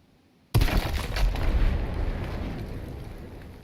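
A grenade goes off in a video game: a sudden sharp, loud detonation after near-silence, followed by a rumbling roar that slowly decays over the next few seconds.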